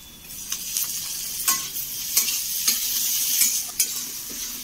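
Tomatoes sizzling in a pan for Odia egg curry, a continuous fry broken by sharp spatula scrapes roughly every half second, close and clear with no talking.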